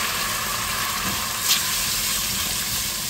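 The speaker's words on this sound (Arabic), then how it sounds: "هنا بعد ما ساحت الزبده هنحط الشعريه" Vermicelli sizzles in melted butter with a little oil in a pan, giving a steady broadband frying hiss that stays even across the span, with one brief louder crackle partway through.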